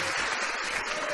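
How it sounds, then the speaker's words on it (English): A short, steady smattering of audience applause: dense, even clapping with no voices over it. "There's a smattering, let's call it, a smattering of applause"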